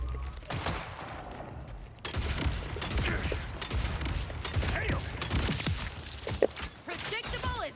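Gunfire from a Borderlands 4 weapon that fires four projectiles per shot at a slower rate, heard as repeated bursts and impacts amid busy game noise, without speech.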